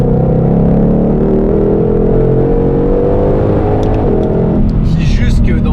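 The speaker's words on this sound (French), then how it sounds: "ça sonne déjà mieux à la sortie d'échappement" A supercharged Ford Mustang Shelby GT500 engine and exhaust drone loudly as the car accelerates, a sustained deep rising roar heard from inside with someone talking over it.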